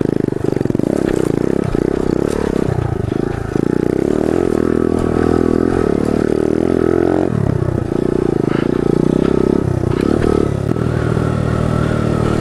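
A pit bike ridden through city traffic, its small engine buzzing loud and close throughout, revving up and down with clattering and wind noise, never pausing.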